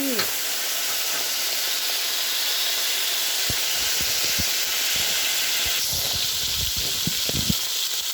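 Spaghetti stir-frying in a hot pan, a loud continuous hiss and sizzle with scattered clicks and scrapes of a utensil stirring, a voice briefly heard at moments.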